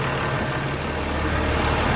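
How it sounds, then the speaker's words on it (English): Steady low diesel engine idle drones continuously at close range, an even rumble with no changes in pitch or rhythm. "Check the engine idling."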